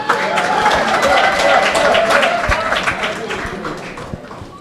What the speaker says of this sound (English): they're getting a rousing round of applause